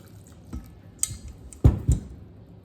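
Hydrogen peroxide poured over garlic cloves in a bowl: a few soft drips and two louder splashy bursts of liquid against the container, close by, with quiet gaps between.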